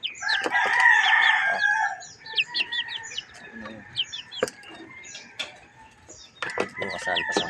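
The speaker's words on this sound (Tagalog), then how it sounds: "Tatlong tandang, isang inahin." Roosters crow loudly while hens cluck and chirp in a busy flock, calls overlapping close by with brief sharp noises in between.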